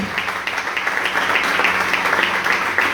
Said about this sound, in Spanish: dale más fuerte ese aplauso